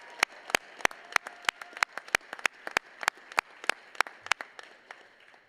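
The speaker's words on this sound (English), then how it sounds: "Another round of applause for these amazing graduates." Sparse, uneven clapping from a commencement audience applauding graduates, sharp individual claps in a loose irregular rhythm rather than a dense roar, moderately close and without talk.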